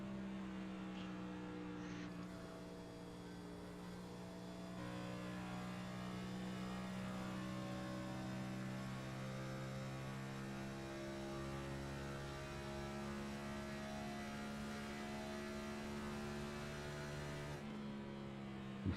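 A race car at Kansas Speedway in an ANZCAR Cup chase round drones steadily, its engine note held partly off full throttle and lifting slightly, a faint, sustained tonal hum with no talk.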